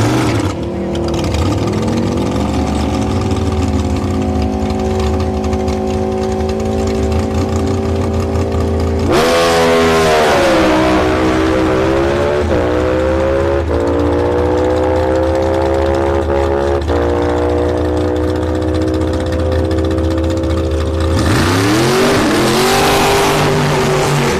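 A KTM 1290 Duke motorcycle on a drag strip roars loud and close, its engine climbing through rising gear pulls with sharp shifts, a steady high-revving howl throughout.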